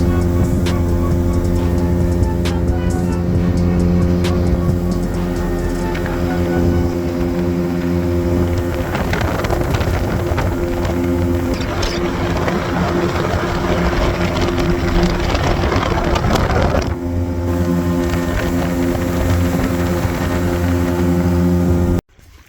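Steady loud engine drone of an old Ultranautics Jetstar jet boat running across a lake, with wind and water rush, continuous and unchanging for a long stretch before cutting off.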